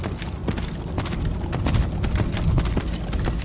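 Horse hooves clip-clop in Skyrim as a steady, fairly loud series of dull thuds in a running rhythm, mixed with ambient rumble.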